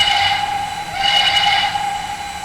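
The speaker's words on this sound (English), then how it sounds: "that's a more modern recording of a Banshee whistle" Pennsylvania Railroad Banshee steam whistle in the Trainz 2019 game, heard in a modern recording: a loud, steady multi-chime whistle with a bright hissing edge, holding its tone throughout with a brief swell in the middle.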